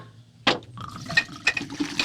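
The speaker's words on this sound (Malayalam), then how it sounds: "മന്ദാകിനി നാടൻ വാറ്റ് ഒഴിച്ചു കൊടുക്കാം." Mandakini country liquor is poured over ice into a jar, a short close splash that starts abruptly and burbles on with liquid gurgles and light glassy clinks.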